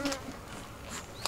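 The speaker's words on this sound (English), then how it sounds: "I don't know whether these are Crynaut bees flying around me" Carniolan honeybees buzz close around a beekeeper, a steady soft insect drone with wing-whines passing near and away over a short stretch.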